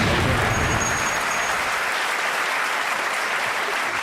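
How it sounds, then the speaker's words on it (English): Loud, dense applause from an audience fills the whole four seconds, steady and close, with no talk over it. "Give her a round of applause."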